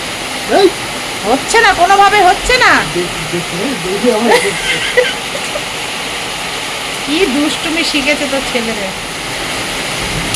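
Water rushes and splashes in a steady hiss as a small child plays with it, while someone talks and laughs over the sound.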